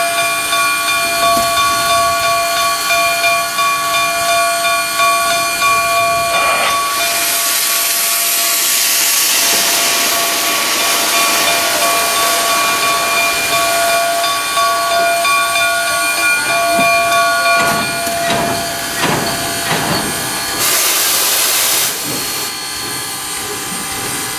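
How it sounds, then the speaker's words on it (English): Steam locomotive CP 2317 hisses loudly and continuously as it creeps toward the coaling area at Steamtown, with sharp bursts of venting steam rising over a steady mechanical hum, heard close by with no talk. "we'll just stand by and watch the locomotive go to this point to get to the coaling area"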